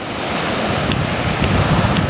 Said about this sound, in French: on a cette houle moyenne à longue de secteur nord-ouest qui est en baisse